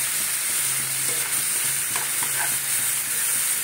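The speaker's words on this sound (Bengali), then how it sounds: "যে কারি পাতা দিয়ে মশলাটা কষছি" Spice masala frying with curry leaves in a pan, a close, continuous hissing sizzle with soft stirring scrapes underneath.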